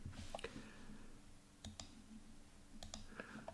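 Several crisp, quiet mouse clicks on a software button, single sharp ticks at irregular moments against a soft low background hum, with no talking.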